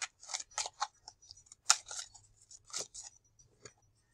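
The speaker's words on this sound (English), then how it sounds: "Wow, all these cards, these are a little slippery." Slippery tarot cards being handled, a string of short, close, crisp snaps and flicks, irregular and quiet against a silent background.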